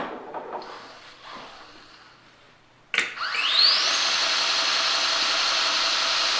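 A budget 2x72 belt sander knife grinder starts up after a sharp click and rising whine, settling into a loud, steady airy hiss and motor drone as the belt runs continuously close by.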